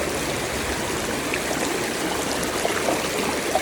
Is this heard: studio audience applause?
no